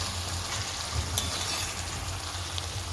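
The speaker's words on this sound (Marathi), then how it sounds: "2-3 मिनिटे झाकण ठेवून शिमला मिरची शिजू द्या." Capsicum cooks slowly over a low flame in a covered kadhai with besan, a continuous soft even sizzle with a low steady hum beneath and a faint tap now and then, no talking.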